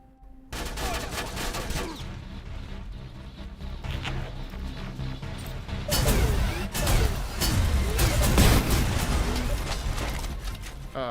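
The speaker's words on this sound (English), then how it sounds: "Oh, I think I just blew myself up." Rocket launcher blasts in Terminator Resistance, heavy, loud booms and crashes rolling one into another with dense gunfire, the barrage growing even heavier in the second half.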